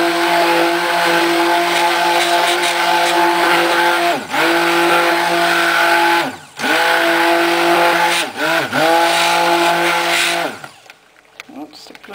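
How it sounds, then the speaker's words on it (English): A stick blender mixes soap batter in a handmade candy cane soap batch, giving a loud, steady motor whine close by that dips briefly several times as it is pulsed before cutting off near the end. "make sure there's no air trapped under the stick blender."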